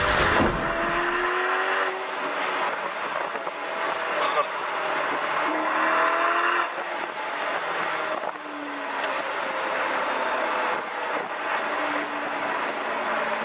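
A Ferrari driven at full speed by a professional staff driver on a theme park track gives a sustained engine roar with rising gear-change sweeps, while a voice talks over it.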